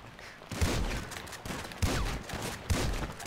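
Three sharp bursts of gunfire from Grand Theft Auto V multiplayer, each a loud, punchy report spaced about a second apart, with no talking.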